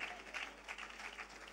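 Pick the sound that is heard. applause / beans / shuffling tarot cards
applause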